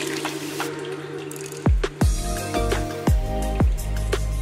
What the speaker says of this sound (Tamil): இது வந்து ஒரு கொலாண்டரில் வடிகட்டிக்கலாங்க.